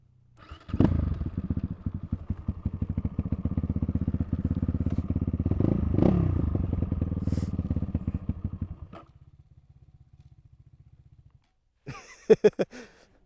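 A Kovi Lite 300 motorcycle engine rumbles steadily, swelling louder as it nears, then drops to a low idle and cuts off, followed by a few sharp clatters.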